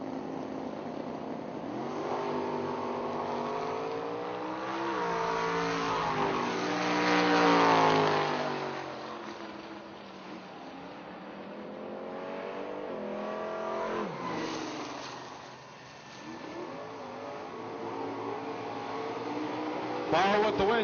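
A 1969 Camaro roars down a drag strip at a bracket racing event, engine revving up and shifting through gears as it passes, then fading into the distance while a track announcer talks over it.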